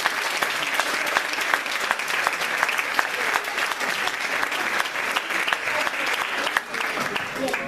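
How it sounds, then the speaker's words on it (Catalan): A crowd at a community celebration for older members applauds warmly, a thick, even wash of clapping that stays loud and steady from start to finish with no pauses. "Un aplaudiment per Daniel."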